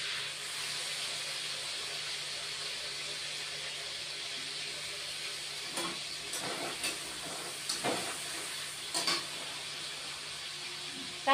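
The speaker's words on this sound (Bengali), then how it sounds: "এবার পেঁয়াজ ফোড়ন দিচ্ছি" Onion sizzles in hot oil as a tempering step for a pumpkin and prawn dish, a steady, fairly quiet frying hiss with a few brief clinks and stirring knocks toward the end.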